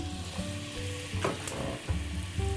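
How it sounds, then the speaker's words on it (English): Onions sautéing in rendered pork fat in a pan after roasting a pork roast, a steady close sizzle with crackling and occasional stirring scrapes, no voices. "Now we're just going to saute our onions"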